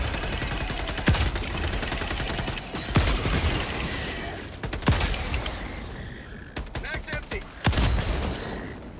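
Bursts of heavy cannon fire in Helldivers 2 boom repeatedly, several loud blasts with rapid cracking between them, as a voice talks quietly underneath.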